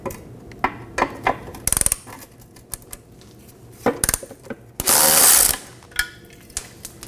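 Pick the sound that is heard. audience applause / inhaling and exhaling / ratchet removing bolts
ratchet removing bolts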